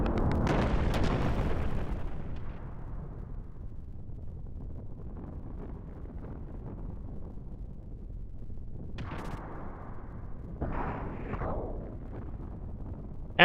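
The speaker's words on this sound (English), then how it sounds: "Oh man, the town's exploding a lot." Explosions rock the village of Lahan in Xenogears, a heavy booming blast up front fading into a long low rumble, followed later by a couple of sharper, brighter bursts.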